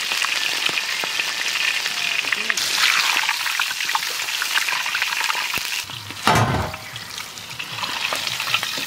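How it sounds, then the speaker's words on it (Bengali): Big stingray fish pieces fry in mustard oil for a village curry, a continuous crackling sizzle with occasional stirring and a loud spattering burst midway, while people talk nearby. "আমরা মাছ ভাজবো সর্ষের তেল"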